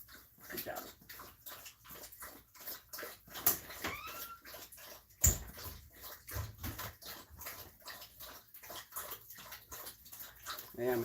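A dog laps water from its dish in a rapid, regular rhythm of wet slurps, close and moderately quiet, with a person's voice speaking softly over it and a brief sharp knock midway.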